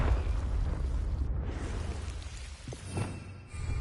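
A Confringo fire spell in Hogwarts Legacy, a rumbling fiery blast with crackling burst and a low roaring tail, fairly loud, followed by a second softer impact near the end.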